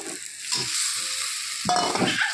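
Fish pieces go into a pan of cooked-down masala and are stirred, a brief close sizzle broken by several scraping strokes of a spatula, ending in a louder hissing burst.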